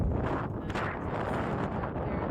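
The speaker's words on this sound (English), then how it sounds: "That's how windy it is. It is so crazy windy." Strong wind roars steadily into the microphone between storms, a loud continuous buffeting rumble with no break for the whole moment.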